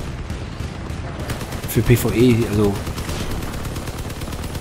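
Rapid cannon fire from a vehicle in the game Crossout: a steady stream of repeated loud shots throughout, with someone talking over the gunfire.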